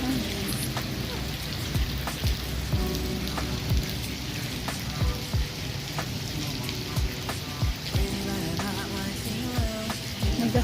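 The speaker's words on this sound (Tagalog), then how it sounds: "Pabugso-bugso lang yung ulan dito sa Saudi, pero isang bagsakan lang." Steady rain pours down in Riyadh, mixed with small ice pellets, hissing continuously with scattered close drops and patters across the whole stretch, no voices.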